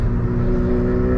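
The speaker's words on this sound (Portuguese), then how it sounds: "Mas vamos fazer um 0 a 100 nela aqui." A VW Saveiro 1.6 MSI pickup with a remapped engine accelerates hard from a standstill, its engine note a loud, steady, close droning hum with strong low harmonics over a brief moment.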